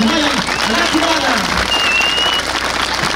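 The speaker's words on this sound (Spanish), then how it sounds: "Regálenle el aplauso" Applause from a crowd fills the clip, continuous and fairly loud, with voices and shouts mixed in.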